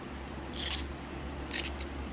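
Scissors snip twice at close range while a catasetum orchid is being potted into semi-hydro, two short crisp cuts over a low steady hum.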